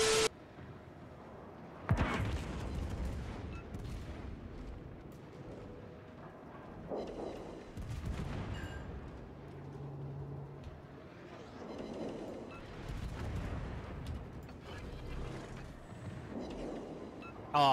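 Warship guns firing in World of Warships: several heavy booms spaced a few seconds apart, each followed by a long rolling rumble, with faint voices under the noise.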